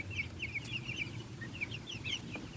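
Backyard chickens, including a young rooster, clucking and chirping in repeated short calls over a low rumbling background, fairly faint and close.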